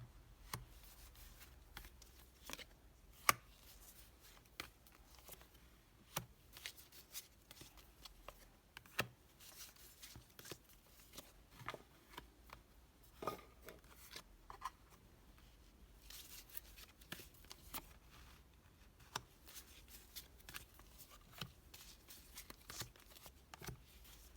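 Ten tarot cards are laid out one by one on a table, giving soft scattered slaps and light papery taps with short pauses between, close and quiet, with no talk.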